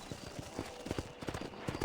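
Horse hooves clip-clop at a walking pace in the Red Dead Redemption video game, a quick, even run of soft thuds with no voices.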